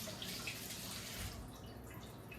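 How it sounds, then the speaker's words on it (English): Extra water running into a pot of low carb chili, a soft continuous hiss of pouring that eases off partway through. "We're going to add just a little extra water to help counterbalance that."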